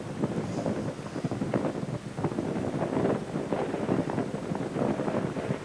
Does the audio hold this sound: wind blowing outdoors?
yes